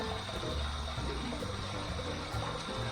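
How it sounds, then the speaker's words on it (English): Warm tap water runs and splashes continuously as a face is rinsed after a wet shave with a safety razor, a close, steady gush with no voices. "Here's my warm water rinse."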